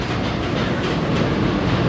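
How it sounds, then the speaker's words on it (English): A Manhattan-bound 2 train on the New York City subway rolls loudly and steadily on the rails, a continuous close roar with faint rhythmic clickety-clack throughout. "This is a Manhattan-bound 2 train."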